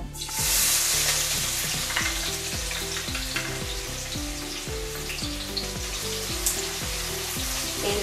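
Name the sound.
onions frying in hot oil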